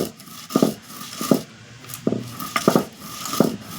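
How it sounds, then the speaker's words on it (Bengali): Fried spices for lemon pickle being ground, with a series of separate close knocking and scraping strikes spaced unevenly about half a second apart over a faint background. "এই যে আমি মশলাটা গুঁড়াচ্ছি এত সুন্দর সেন বেরোচ্ছে"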